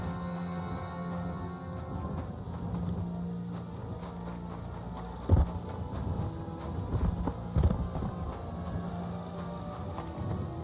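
Horse hooves clip-clopping in the video game Kingdom Come: Deliverance 2, a soft steady walking rhythm over a continuous ambient bed, with a couple of louder knocks standing out partway through.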